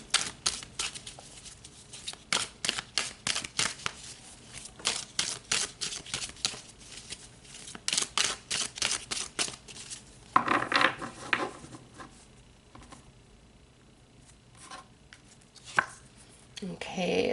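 Tarot cards are shuffled and pulled in quick bursts of crisp riffling and slapping, a run of sharp rhythmic clicks followed by a softer papery rustle and a few separate snaps near the end.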